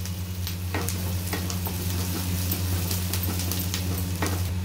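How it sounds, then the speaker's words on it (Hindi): Finely chopped onion sizzling and frying in hot oil in a pan for a paneer tikka masala, a steady crackling sizzle with occasional stirring scrapes throughout, close and continuous with no talking. "प्याज को हम अच्छे से भून लेंगे।"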